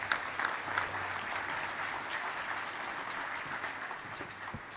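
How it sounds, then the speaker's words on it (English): A sustained round of applause from an audience, steady clapping filling the whole stretch with no voices above it. "Please give a round of applause for our speakers."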